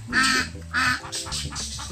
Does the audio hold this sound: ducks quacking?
yes